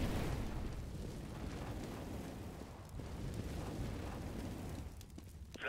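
An incendiary grenade from Counter-Strike: Global Offensive burns with a loud, steady crackling roar of fire that holds for several seconds, sitting dense and close throughout.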